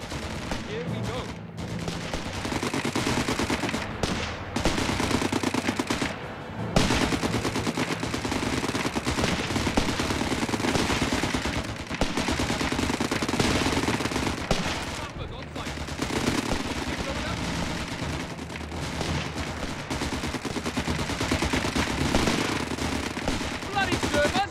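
Dense, loud small-arms and machine-gun fire rattles nonstop in Company of Heroes 3 combat, with rapid bursts and sharp cracks layered over battlefield din and occasional shouted voices.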